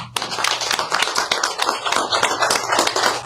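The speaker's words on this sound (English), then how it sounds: "We want to give another round of applause for our presenters." Audience applause at a college presentation forum, dense steady clapping from many hands filling the room, loud and close, with a low hum underneath and no talking.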